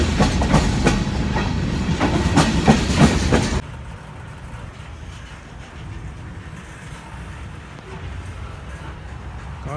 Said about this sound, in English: This one the cargo train going to Karachi.